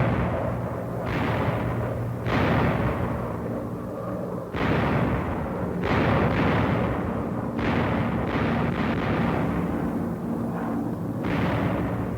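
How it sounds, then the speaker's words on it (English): Parachute fragmentation bombs go off in a string of heavy blasts, each sharp and booming and then rumbling away, the bursts coming a second or two apart for more than ten seconds. "parafrag, fragmentation bombs dropped by parachute"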